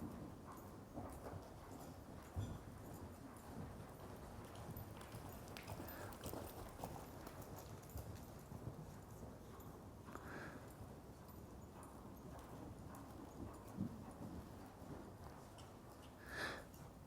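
Horse hooves on the ground while ridden Western style, shifting from a jog down to a walk; faint, steady footfalls with no talk.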